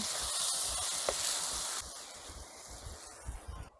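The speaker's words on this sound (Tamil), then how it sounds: "இந்த நல்ல வடிவாக நாங்கள் கிளறி விடுவோம்." Curry spice powder is stirred into hot oil in a frying pan in a Jaffna village kitchen while making egg masala, giving a steady close sizzle and hiss that eases slightly partway through.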